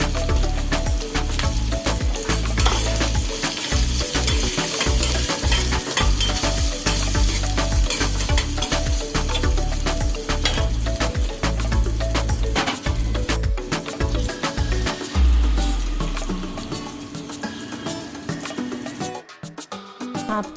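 Green chilies and bitter gourd frying in a pan with ginger and garlic, giving a loud, continuous sizzle with frequent stirring scrapes that soften toward the end.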